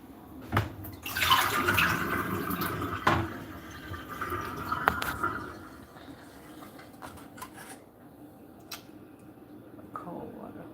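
Cold tap water runs steadily into a vessel in a kitchen, a broad splashing rush that swells early and then thins out, with a person talking over it.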